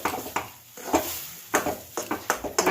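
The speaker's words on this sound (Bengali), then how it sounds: "এবার এটা নেড়ে নেড়ে শুকনো করব।" Pea filling with salt and sugar being stirred and dried in a pan, giving repeated scraping and clinking strokes at an uneven rhythm, close and moderately loud, with no talking.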